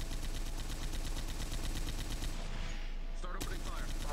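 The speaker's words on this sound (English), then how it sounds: "Start opening fire." Rapid video game gunfire during a training run fills the scene, steady bursts rattling densely for a couple of seconds before thinning into a few sharper isolated shots and a final crack.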